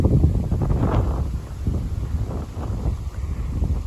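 Strong wind buffets the microphone near Torwood Castle, a steady loud rush with low rumbling gusts that swell and ease throughout.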